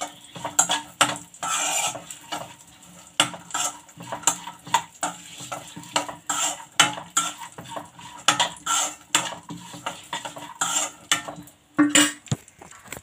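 Almonds and black and white raisins frying in a pan get stirred with a spoon, sharp metallic scrapes and clinks coming in irregular bursts over a faint sizzle.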